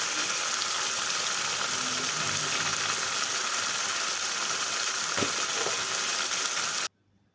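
Potatoes fry in hot oil seasoned with green chilies, turmeric, coriander-cumin spice, Kashmiri chili powder and salt, giving a loud, dense, continuous sizzle that cuts off abruptly near the end.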